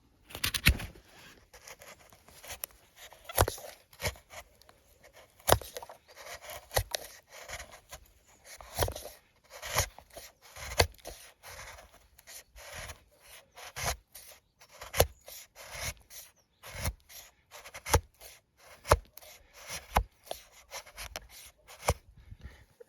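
A Ganzo G729 folding knife carves thin wood shavings, producing a quiet, close series of sharp scraping strokes in an uneven rhythm for over twenty seconds, with no talking.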